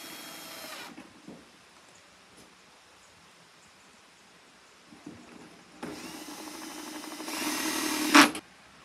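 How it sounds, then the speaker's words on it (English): A power drill drives screws into a soft plastic pail, with a short burst at the start and a longer, louder whirring run near the end, separated by quiet handling. "I'm going to put screws here."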